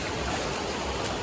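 River water rushes in a steady, dense broadband wash, close and unbroken, with no voices.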